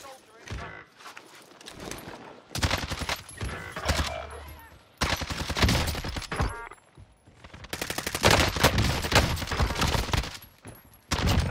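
Rapid automatic gunfire from close-range assault rifles in a Warzone battle royale match, several loud bursts and sustained volleys with players talking over the shooting.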